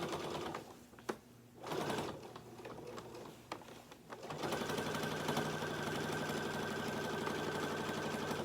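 A sewing machine quilts a seam through a quilt sandwich, a steady rhythmic stitching drone that settles into an even continuous run after some earlier handling clicks and intermittent stitching.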